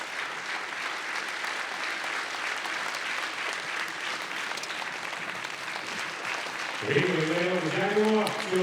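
Sustained audience applause in a hall at a summit of first ladies and gentlemen, a dense even wash of clapping, joined near the end by a voice over the crowd.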